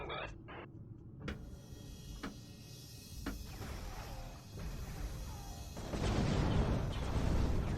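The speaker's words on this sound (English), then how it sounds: "It's still so much fun watching these explosions." Scout kamikaze explosions in the Homeworld space strategy game: several sharp, separate blasts in an irregular sequence, building into a denser, louder rumble of detonations near the end.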